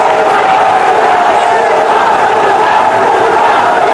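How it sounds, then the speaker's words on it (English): A raucous cricket stadium crowd in Sharjah roars steadily through a one-day international between Afghanistan and Bangladesh, a loud, dense wall of cheering that holds without a break. "Bangladesh, they've got a raucous crowd cheering them on"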